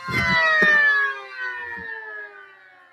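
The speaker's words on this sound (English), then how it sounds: "It sounded like a dual rotor Sentry Siren." A 3D-printed mini dual rotor mechanical siren with layered tones slowly winds down in pitch, loud at first then fading, with a few thumps at the start.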